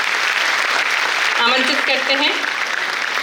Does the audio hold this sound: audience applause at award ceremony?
yes